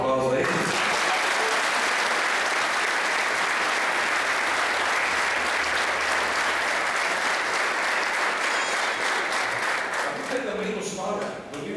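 A church congregation breaks into loud, sustained applause, a dense wash of many hands clapping close and continuous for about ten seconds before tapering off at the end.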